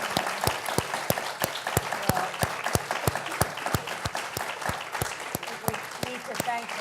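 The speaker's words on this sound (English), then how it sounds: "Let's give them a round of applause." An audience at a Women's History Month panel applauds, with sharp individual claps standing out near the microphone over a softer crowd patter, continuous and fairly steady.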